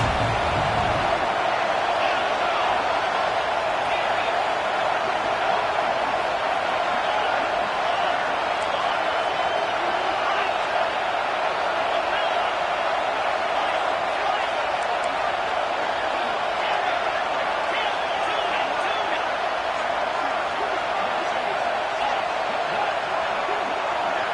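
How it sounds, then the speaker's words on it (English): Stadium crowd in a college football video game cheers on a third down, a dense, steady roar filling the air without letup, loud and constant throughout. "Big third down as the crowd gets behind this defense."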